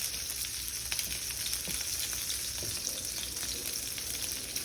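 A steady, hissing sizzle of backstrap or tenderloin meat searing in a hot skillet, with faint crackles and pops scattered throughout at low volume.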